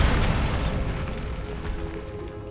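A Bombarda spell explodes in the video game Hogwarts Legacy, a loud, rumbling boom with crackling debris that starts at full strength and slowly fades over a couple of seconds.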